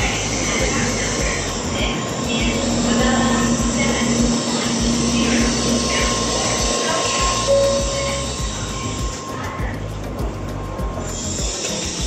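A Shinkansen bullet train rushes past with a loud, sustained roar and brief whistling tones, close and continuous throughout.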